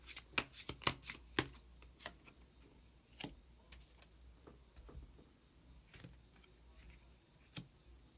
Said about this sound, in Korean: 히든 카드 한 장 더 뽑아보도록 하겠습니다